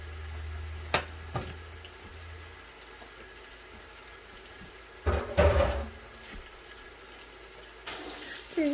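Curry leaves drop into hot oil in a pan for Punjabi kadhi pakora, giving a soft background sizzle broken by a few sharp bursts of spitting crackle, close and fairly quiet.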